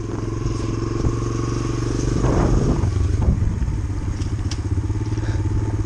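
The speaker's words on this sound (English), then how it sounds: "I can't even bump start my own bike." Someone trying to bump start a dirt bike: the engine putters and clatters as the bike rolls, with a scrape and a few thumps in the middle, fairly close and loud throughout.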